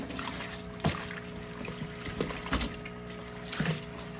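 Dirty aquaponics fish-tank water trickles and splashes from a bucket, a steady watery wash with a few louder sloshes, close by with no talk.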